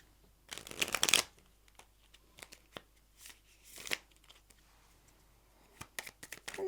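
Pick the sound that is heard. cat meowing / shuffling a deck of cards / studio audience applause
shuffling a deck of cards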